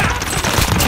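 Rapid gunfire bursts in the shooter game Rebirth, dense and continuous through the short moment, loud and close with no pause.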